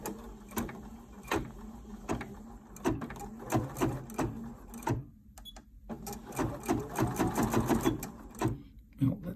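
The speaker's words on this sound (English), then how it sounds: "this is just a very short stitch out." Bernina 790 embroidery machine stitching a short design on black and white fabric with black thread, a close rhythmic mechanical chatter of needle strokes broken by brief pauses and thumps, with a voice speaking over it.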